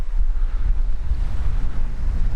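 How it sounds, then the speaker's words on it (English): Strong wind buffets the microphone with a steady low roar on a cloudy day at a lakeside or riverside campsite, with a constant rumbling gust and no talking. "Very windy, cloudy day today"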